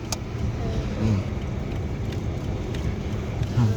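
A car coasts down a hill with its engine fully switched off, producing a continuous low road and tyre rumble with wind noise at an even, moderate level, and faint voices are heard now and then.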